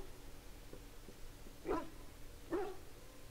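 Dog in the Dragon Age: Origins video game giving two short whimpering yelps over a steady low game background, moderately close.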